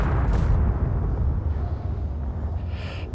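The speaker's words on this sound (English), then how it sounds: "Those explosions." Explosions in Space Engineers rumble as a dense, loud, low roar that holds for a few seconds with brief bursts rising on top.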